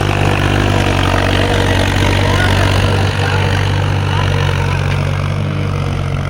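A farm tractor engine running steadily in a field, a dense, continuous low rumble at constant loudness with no breaks and nobody talking.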